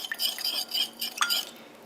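A spoon clinks and scrapes against a small bowl while stirring a starch mixture, in quick, irregular strokes, with a sharper tap near the end.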